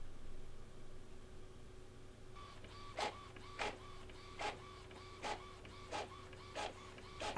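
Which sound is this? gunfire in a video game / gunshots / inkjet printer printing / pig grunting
inkjet printer printing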